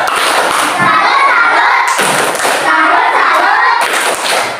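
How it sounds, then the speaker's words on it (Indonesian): A classroom of students claps for a presenting student group, with loud, dense hand claps and thumps running throughout, pausing briefly around two seconds and again near four, mixed with children's voices. "Tepuk tangan untuk kelompok 2"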